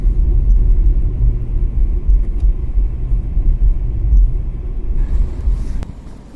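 A BYD Sea Lion 07 electric car rolls along at low speed, giving a steady close road rumble and tyre noise with no engine note, continuous throughout and alone.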